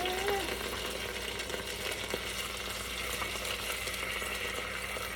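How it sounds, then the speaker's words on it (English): A hot caramel mixture for peanut brittle being stirred in a pan gives off a steady, close sizzling hiss with faint scraping, continuous and fairly loud throughout, with no voices. "you want to make sure you allow the caramel mixture to keep stirring, just so that it can melt"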